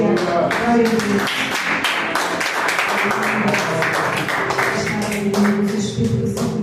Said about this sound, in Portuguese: dando uma salva de palmas bem forte para Jesus